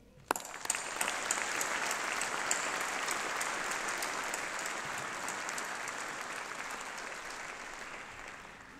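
A graduation ceremony audience gives sustained applause for the staff, steady dense clapping that rises quickly and holds evenly for nearly nine seconds in a large hall, with no talk over it.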